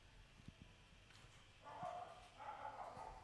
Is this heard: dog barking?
yes